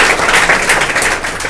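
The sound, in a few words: audience applause for Ojha sir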